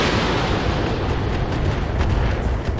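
Heavy mech weapons and missile fire in Battletech (Roguetech) make a dense, continuous rumbling roar of overlapping blasts, loud and sustained throughout.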